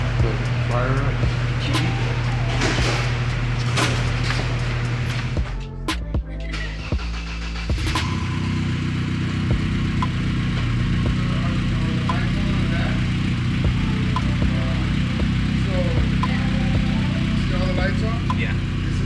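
BMW E30 M3 cranking over briefly, then settling into a steady mid-pitched idle that runs on for several seconds, close and loud, with people talking over it.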